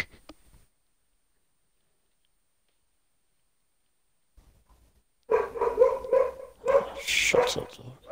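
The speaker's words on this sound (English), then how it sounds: "Shut up, dog." A dog barks several times, loud and close, in a quick burst of yaps after a long stretch of near silence.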